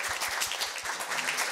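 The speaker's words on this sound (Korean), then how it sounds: "박수 한번 부탁드립니다" Audience applause at a Korea University middle-school speaking festival, greeting a professor who stands. A steady, dense wash of clapping carries evenly through the whole short stretch at moderate level, with no voices over it.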